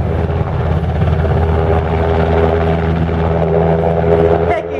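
An NH90 military helicopter at the Turku Airshow 2015 produces a loud, close, steady rotor and turbine drone with a pulsing low thrum that holds throughout and eases slightly at the very end.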